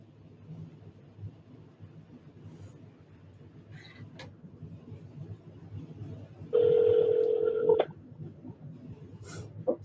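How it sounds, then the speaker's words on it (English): A phone ringing during a panel session on realtor advocacy, one loud electronic ring burst standing out over low room noise, with a few faint tones before it. "somebody's phone's ringing"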